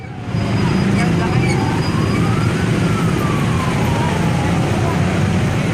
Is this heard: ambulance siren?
yes